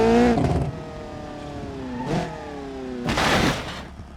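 A car in the BeamNG.drive driving game revs and accelerates, then crashes into something, with engine whine rising and falling between bursts of impact noise, loud and close with no talk.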